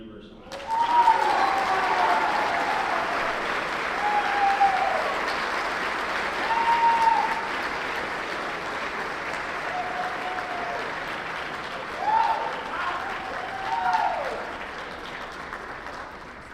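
A banquet audience applauds the 2024 International Quarter Scale Student Design Competition champions, North Carolina State University, with sustained loud clapping across a large hall and a few cheers and whoops rising above it.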